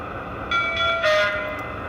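A Lionel S-2 tinplate toy locomotive sounds its sequence control signal, two short electronic whistle-like tones in quick succession over a low background rumble, close and clear.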